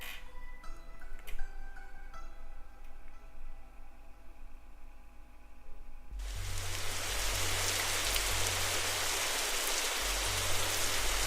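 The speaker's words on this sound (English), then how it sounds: "sounds like it might be loud. You know, with the rain in the background" Rain in a video game setting: after a quieter stretch with faint tonal sounds, a dense, loud hiss of steady rainfall swells in about midway and continues unbroken to the end, with no voices.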